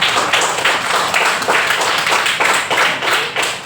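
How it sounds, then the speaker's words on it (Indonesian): A class of students claps hands together in a lesson, dense rapid clapping that stays loud and close throughout in a steady, slightly pulsing rhythm. "tepuk tangan semuanya untuk Syawal."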